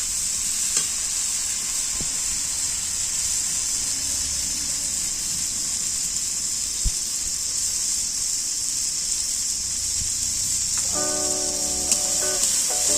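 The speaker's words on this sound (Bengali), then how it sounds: "এবারে এই মশলাটা, আদাটা, কাঁচা লঙ্কা বাটাটা দিয়ে একটু নেড়ে নিচ্ছি" Ginger and green chilli paste stirred in a pan of frying spices, a steady close hiss of sizzling with occasional scrapes, and a brief tonal beeping sound near the end.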